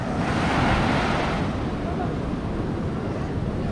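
Sea surf rolling in at Kovalam beach in Kerala, a continuous roar of breaking waves mixed with buffeting wind noise on the microphone, steady and fairly loud with no distinct voices.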